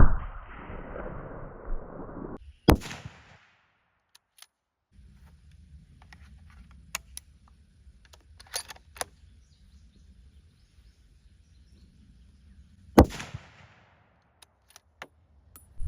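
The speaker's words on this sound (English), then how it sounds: "after shooting those 150 grain Hornady American Whitetails out of the 30-06" A 30-06 rifle fires Hornady American Whitetail 150 grain rounds into ballistics gel, two sharp, loud cracks about ten seconds apart, with quiet stretches, faint scattered clicks and low background noise between them.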